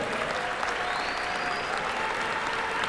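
Steady applause from a large crowd fills the space, dense and continuous, with scattered cheers underneath.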